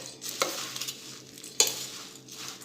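Dry bhel ingredients being stirred and tossed in a vessel, a soft rustling scrape punctuated by a few sharp clinks of a spoon.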